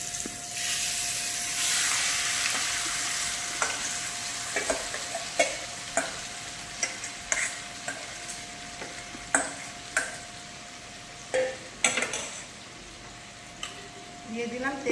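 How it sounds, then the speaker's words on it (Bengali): Marinated chicken hitting hot spices in a pan, a strong sizzle that settles into a steady hiss, punctuated by regular scraping and clanking stirs of a spoon close by. "এবার দিয়ে দেবো ম্যারিনেট করা চিকেনটা।"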